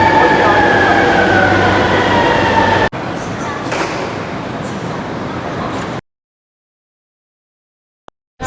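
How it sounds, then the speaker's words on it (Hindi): A Shanghai metro train runs through a station with a loud, steady rumble and high whine, then the sound cuts to a quieter interior before falling silent. "ये भाई मेट्रो इनकी।"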